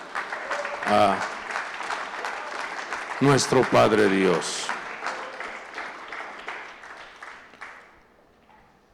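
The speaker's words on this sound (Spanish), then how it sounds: "Fuerte aplauso" A church congregation breaks into loud applause at a Spanish-language worship service, clapping under a preacher's voice and fading out over several seconds.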